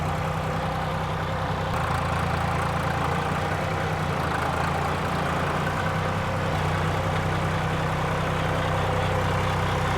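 A farm vehicle's engine runs steadily while spreading compost on pasture, a low continuous rumble with a slight shift in tone near the start and no talking.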